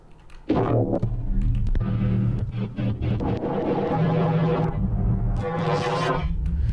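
A dense, evolving synthesized texture from a randomized generative synth preset, with shifting tones and bursts of bright noise, playing continuously and fairly loud.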